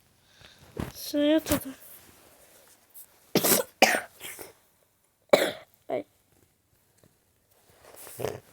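Several harsh coughs in bursts, close by, with throat-clearing and heavy breathing between them, followed by quieter rustling.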